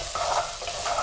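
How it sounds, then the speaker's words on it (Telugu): Soya chunks (meal maker) fry in a pan for a curry, giving a steady close sizzle with soft stirring scrapes throughout, no voices. "ఇగో కొంచెం కలర్ వచ్చేటట్టు ఇవి వేపుకోవాలి."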